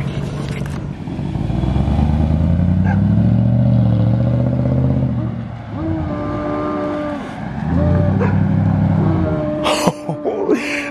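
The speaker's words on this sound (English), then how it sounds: "We just finished doing an exhaust on my car. So we're just seeing what it sounded like." A deep, throaty V8 exhaust on a Toyota 4Runner with the muffler removed revs up hard twice, with a rumbling idle in between and brief rattles near the end.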